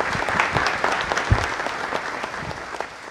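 A congregation applauds during Palm Sunday Mass in the Basilica of Caacupé, a sustained, moderately distant patter of many hands clapping with a few sharper claps standing out, echoing in the large church.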